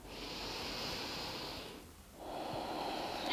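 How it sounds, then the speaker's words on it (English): A slow, deep breath during a yoga session: a long airy inhale, a short pause, then a steady exhale, all close and quiet with no talking. "Take a deep breath here"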